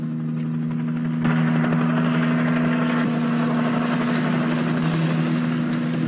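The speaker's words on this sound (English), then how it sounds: "That helicopter watching for him?" Continuous loud drone of a helicopter engine with a steady rotor hum, close and unbroken, growing slightly louder after the first second.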